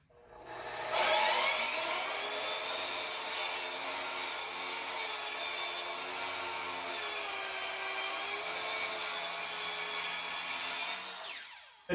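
A power saw, likely a circular saw, rips through an OSB board for an interior wall, a loud, continuous high whine with a slight pitch dip as the blade bites, lasting about ten seconds before spinning down, with no talking.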